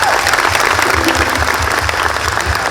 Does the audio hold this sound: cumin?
no